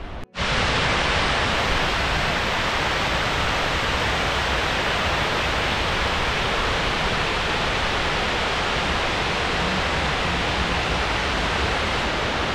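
Water overflowing a dam in the Elan Valley, a loud, dense, unbroken rushing roar that stays constant throughout, with no voices.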